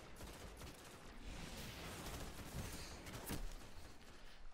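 Rapid gunfire from the Red Death weapon in the video game Destiny, a dense, steady burst of shots filling the clip with a louder crack near the end.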